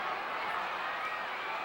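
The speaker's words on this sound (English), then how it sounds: "The cheers get noticeably louder." Crowd cheering around a ring in Robotics;Notes Elite, a brief, steady, dense roar of many voices at even loudness.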